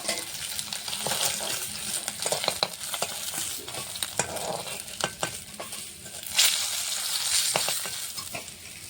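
Oil sizzles and crackles steadily around fish frying in the pan, with close clinks and scraping of a utensil stirring.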